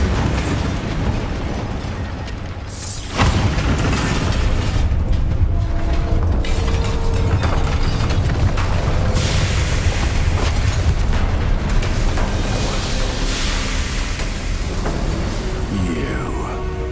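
A Bombarda blasting spell explodes in the Hogwarts Legacy game, with a sudden loud boom followed by a sustained rumbling roar and clattering debris, and game voices in the mix.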